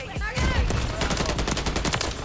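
Rapid gunfire from the video game Call of Duty, a dense burst of repeated shots running continuously over a busy game soundscape, loud and close.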